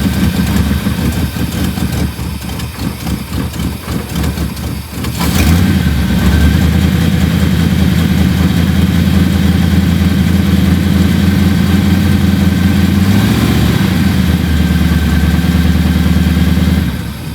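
A cold El Camino engine idles up close, a loud steady low rumble with a rough uneven stretch early on, then settling into a smooth throb with a brief rev near the end.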